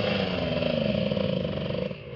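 A dirt bike engine revs on a trail near Desterro de Entre Rios, a steady, close buzzing drone that holds its pitch before easing slightly near the end, heard alone with no talking.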